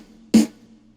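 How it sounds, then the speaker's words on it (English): A single punchy snare hit from a reggaeton beat, sharp and loud with a short bright tail, standing alone over a faint low sustained tone. "Now the snare sounds like this."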